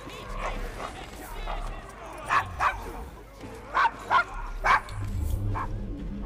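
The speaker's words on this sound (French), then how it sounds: "Votre chien a l'air fâché." A dog barks angrily in the video game Assassin's Creed Syndicate, several sharp close barks in short bursts over a steady ambient background, with voices talking nearby.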